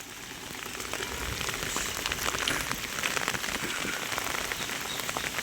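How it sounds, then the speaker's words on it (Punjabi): Heavy rain pouring down in a dense, constant hiss, drops pattering on surfaces close by, with no voices. "ਬਹੁਤ ਜ਼ਿਆਦੇ ਮੀਂਹ"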